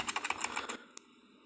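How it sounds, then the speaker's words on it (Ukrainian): Keys typed rapidly on a computer keyboard to enter music notes, a quick burst of close clicks that stops abruptly, followed by one isolated keystroke and then quiet. "вводити ноти з допомогою клавіатури"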